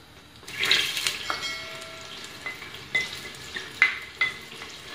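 Onion pieces frying in a small amount of heated oil in a pan, a steady close sizzle with several short bursts and crackles as they are stirred.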